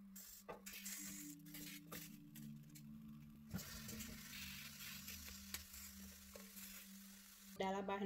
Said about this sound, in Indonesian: aku mau panggang semua bahan-bahan yang aku perlukan untuk buat chile verde